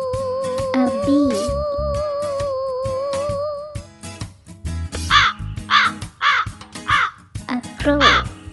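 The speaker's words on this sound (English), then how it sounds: "A crow." A crow caws several times in short repeated bursts within a children's animal song, ringing out over the music, which carries a sung melody in the first half.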